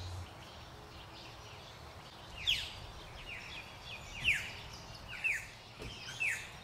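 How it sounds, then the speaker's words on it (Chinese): Small birds chirp before daybreak at a holiday park resort in Australia, four or five sharp chirps spaced a second or so apart, moderately distant over a steady low background hum. "天还没亮竟然让小鸟的鸣叫声给吵醒了"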